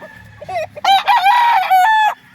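A street comb gamefowl rooster crows loudly and close on a gamefowl farm in Tanauan, Batangas, one full drawn-out crow preceded by a short clucking call.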